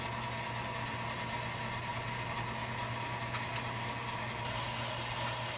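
A Hardinge HLV lathe runs with its half nut engaged on the lead screw while threading, giving a steady mechanical hum and whir with faint gear clicks throughout, with no voices.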